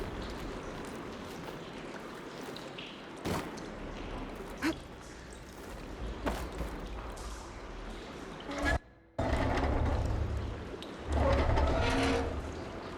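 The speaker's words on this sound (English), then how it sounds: "Aloy, I can hear water in the room again." Water flows and circulates through pipes after a valve is opened in Horizon Forbidden West, a low rushing wash with splashy bursts, a sudden brief dropout and then louder gushing near the end, interrupted by clanks and thuds.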